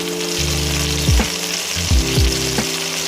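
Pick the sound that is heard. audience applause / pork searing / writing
pork searing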